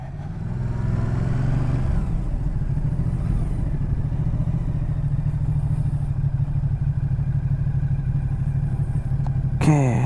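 A 2019 Ducati Multistrada 950S adventure touring motorcycle being ridden, its engine droning steadily and loud throughout with low rumble and wind noise, ending in a brief clattering burst.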